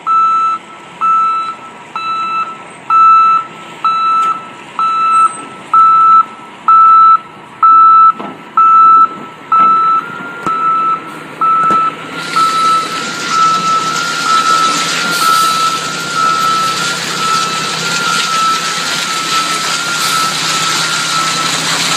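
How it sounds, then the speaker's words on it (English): A garbage truck backs up at a football practice facility, its reversing alarm sounding loud, regular evenly spaced beeps for about twelve seconds before giving way to a steady engine rumble and broad noise. "that was a garbage truck backing up."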